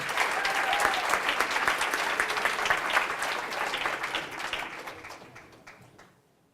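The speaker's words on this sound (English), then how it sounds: "Let's first give a round of applause to Mrs. Leganke" A crowd applauds warmly for several seconds, the clapping steady and dense before gradually thinning and fading out.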